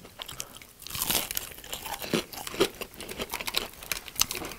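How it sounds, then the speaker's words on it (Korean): Crispy fried fish and chips bitten and chewed up close, a dense series of sharp crunches and crackles at moderate level, with no voices. "아직도 바삭바삭해."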